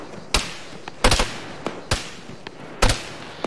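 Explosive charges detonating in the military video game Arma 3, heard as several sharp booms spaced about a second apart with fainter cracks between them and short echoing tails.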